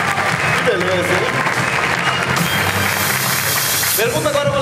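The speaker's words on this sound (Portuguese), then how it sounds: "Uma salva de palmas!" A studio audience applauds on a Brazilian game show, with loud dense clapping running throughout, mixed with music and a voice rising over it near the start and end.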